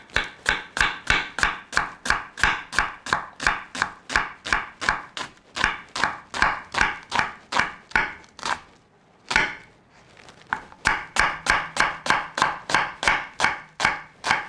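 Vegetables for a Mediterranean roasted red pepper and chickpea flatbread, including scallions, chopped with a knife on a cutting board: steady, rapid, close knife strikes, a brief pause near the middle, then the rhythmic chopping resumes.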